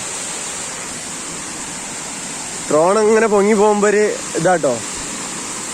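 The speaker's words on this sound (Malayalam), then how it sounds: "ഹൈലൈറ്റ് ആയിട്ടുള്ള ഒരു സംഭവമാണ് കൊല്ലം കൊള്ളി വെള്ളച്ചാട്ടം എന്ന് പറഞ്ഞു കഴിഞ്ഞാൽ" A waterfall at Kollam roars in a steady, even rush of water throughout, while someone talks briefly over it near the middle.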